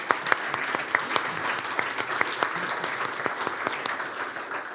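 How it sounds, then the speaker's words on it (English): An audience in a conference lecture hall gives steady, moderately loud applause, with sharp individual claps standing out from the dense clapping throughout. "I think we should give them a hand of applause."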